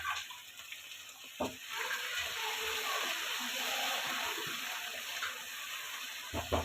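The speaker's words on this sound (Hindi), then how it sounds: "थोड़ा सा पहले हम पानी ऐड करते हैं इसके अंदर" Water poured from a tap or jug into a cooking pan of tomatoes and onions, a steady soft splashing stream at moderate distance with a couple of clinks.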